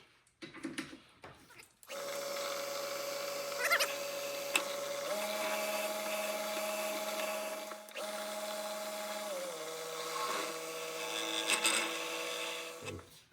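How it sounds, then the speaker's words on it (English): A lathe drills a 1/8 inch pilot hole into soft cast iron, a steady motor hum with a shifting tonal whine that changes pitch in steps, preceded by brief handling knocks. "Just gonna drill a 1/8 pilot hole first."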